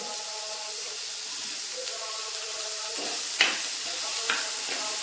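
Curry leaves sizzling in hot oil with small onions and garlic, a steady loud hiss with a few sharp stirring clatters near the end, no speech.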